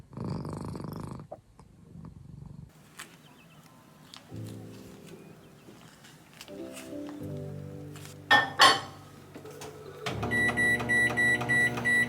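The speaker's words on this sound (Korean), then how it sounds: "전자레인지가 돌아가는 이 2분, 3분은 진짜 세상에서 제일 긴 2분인 것 같아요." A household microwave oven runs with a low steady hum that shifts in tone a couple of times, broken by clinks and a sharp clatter, then the hum ends and closing beeps sound, with no talking.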